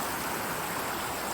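Rushing water from a waterfall in Nikko, Japan, a steady broadband hiss heard from a distance, brief and without voices.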